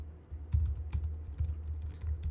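Typing on a computer keyboard while writing C++ game code, a quick irregular run of close key clicks and taps.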